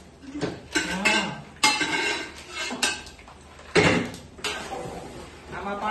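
A pressure cooker is set down among metal pots in a home kitchen, producing a series of loud clanks and scraping knocks in irregular bursts, with a voice briefly audible between them.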